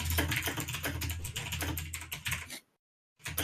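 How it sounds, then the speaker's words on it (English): Rapid, dense computer keyboard typing during a Dungeons & Dragons session, a continuous close clatter of keystrokes with a low hum beneath, breaking off into silence before resuming. "just typing furiously right now"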